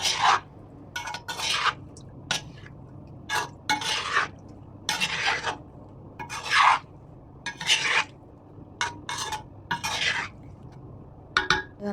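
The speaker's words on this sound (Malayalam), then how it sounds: "അപ്പോൾ അതെല്ലാം കൂടെ ഒന്ന് മിക്സ് ചെയ്തെടുക്കാം" Small anchovies (netholi) being mixed with masala by hand, giving repeated wet rasping and rubbing strokes in irregular bursts, close and fairly loud against a quiet background, with no talk.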